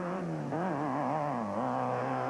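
A 1,650 cc Class 10 off-road race truck engine revs at the start of the 2000 Las Vegas 200, its raspy note rising and falling in quick wavering pulls, heard at moderate distance.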